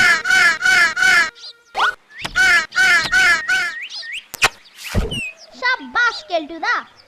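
A cartoon crow caws several times in loud, rasping bursts, between cartoon voices talking and a sharp gunshot-like crack in an animated Bengali folktale scene.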